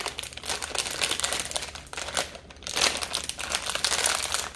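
Plastic packaging on a new Cirkul water bottle is pulled and worked open, giving a steady, close run of crinkling and crumpling with no talk.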